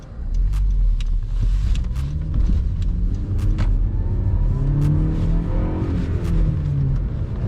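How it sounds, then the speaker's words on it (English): A Mazda Miata runs with no exhaust fitted, its engine giving a loud, steady rumble and drone that swells as it revs for the whole stretch. "It's so quiet. It's just all engine noise."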